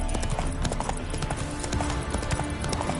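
A horse trotting in The Witcher III video game, with hooves clip-clopping in a quick, steady rhythm, close and fairly loud throughout.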